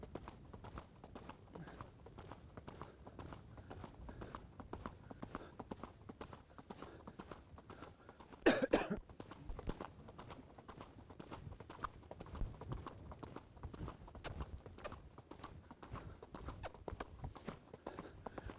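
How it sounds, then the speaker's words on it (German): A young four-year-old horse gallops alone around a large riding arena, its hoofbeats a steady, moderately close rhythmic clip-clop with one louder thud midway, no talking. "Jetzt probiere ich nochmal zu galoppieren, vielleicht ohne zu bocken."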